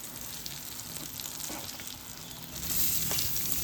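Green chillies fry in oil in a pan for a homestyle chutney, a steady close sizzle and crackle that grows louder toward the end, with faint stirring taps.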